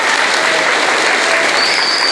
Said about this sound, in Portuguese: Eu quero uma salva de palmas para a imprensa da nossa região.